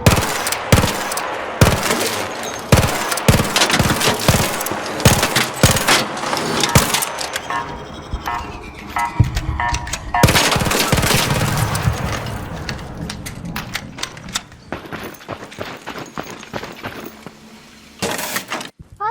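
Rapid bursts of automatic gunfire from the ARC Raiders video game as a player shoots down a comet, dense volleys of loud, close shots in quick succession that thin out toward the end.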